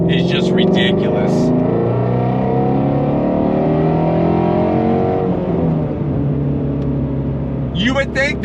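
A 2020 Shelby GT350R engine drones loud and close while driving, holding a steady throaty roar with shifts in pitch, and brief talking at the start and end.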